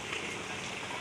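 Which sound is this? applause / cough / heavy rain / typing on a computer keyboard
heavy rain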